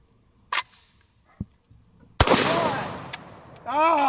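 Modern firearm firing black powder ammunition outdoors, with a couple of sharp isolated shots, then a loud blast trailing into a smoky roar, and a voice shouting at the end.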